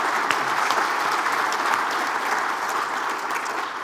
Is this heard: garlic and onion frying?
no